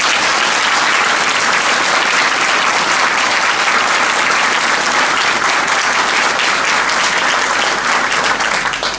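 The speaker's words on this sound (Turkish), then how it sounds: "Onun için de büyük bir alkış istiyorum." A Circassian association audience in Ankara gives Mansur Yavaş a big round of applause, loud, continuous clapping from many hands that holds steady throughout.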